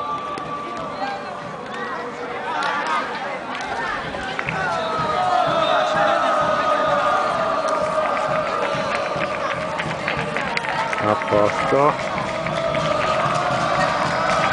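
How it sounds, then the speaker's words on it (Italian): A football crowd at a Virtus Castel Frentano second-category match cheers and applauds the players steadily under the stand, with whoops and a sustained roar swelling midway while a commentator talks over it. "I ragazzi vanno ad accogliere gli applausi sotto la tribuna dove c'è gli ultras della gioventù castellina."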